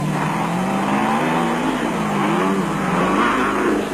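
Off-road race cars at the 1996 Barberspan race in South Africa, including a Land Rover and a Raceco single-seater, loud engines revving and rising in pitch as they pass, with continuous mechanical roar.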